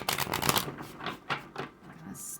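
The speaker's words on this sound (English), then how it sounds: "So as I'm shuffling them, I'm twisting them" Tarot cards shuffled and twisted by hand, a close, quiet run of rapid papery riffles and flutters in uneven bursts, with softer card slides between.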